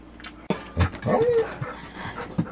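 A dog close by makes soft panting breaths and brief whimpers at a high-altitude spot in Tibet. A sharp knock is heard early and a few low thuds follow.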